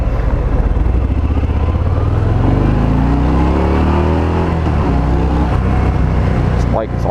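A 2020 Harley-Davidson Fat Bob 114 rumbles steadily on a road ride, its low engine drone close and continuous with wind noise layered over it and some rising pitch as it accelerates.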